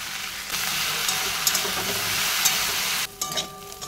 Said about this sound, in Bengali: ঢেঁড়স ভাজাটা একটু ভালো করে করো, কাঁচা কাঁচা ভাল লাগে না